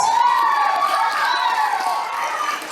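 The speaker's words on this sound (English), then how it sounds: "Please give them a big applause, guys." An audience at a school awards ceremony cheers and shouts loudly, sustained voices blending into a continuous roar without clear clapping.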